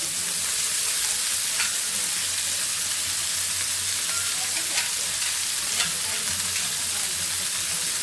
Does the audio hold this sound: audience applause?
no